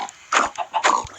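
Two short grunting oinks from a pig in a video game, each a brief burst, separated by a quiet gap.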